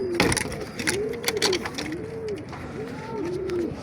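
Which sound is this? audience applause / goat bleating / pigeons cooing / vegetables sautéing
pigeons cooing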